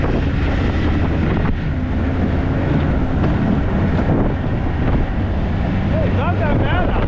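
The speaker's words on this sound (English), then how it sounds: "And this wind sure takes any warmth out of it." Cold winter wind blows outdoors on a snowy trapline in the woods and mountains. The gusts roar loud and steady into the microphone, and a faint voice is partly buried under the noise.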